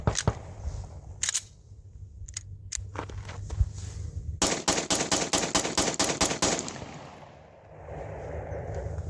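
Ten rounds of MagTech 115 grain ammunition fired from a Combat Armory CA19 pistol, the shots starting as a few scattered cracks and then coming in a rapid, evenly spaced string of loud, sharp reports close by, with no talking.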